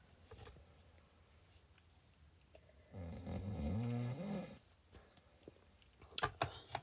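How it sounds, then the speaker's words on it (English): Someone snoring close by, a single long, rasping, rumbling snore of about a second and a half rising out of a quiet room, then dying back to near silence. "Hey, you're snoring."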